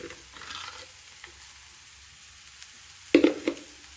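Fried red cabbage is stirred with salt in a pan on a North Karnataka home stove: quiet, soft sizzling, then a short burst of scraping and crackle near the end.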